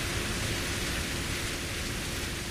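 Rain in the driving game On The Road pours as a dense, constant hiss that fills the whole stretch evenly and loudly, with no breaks and no voices.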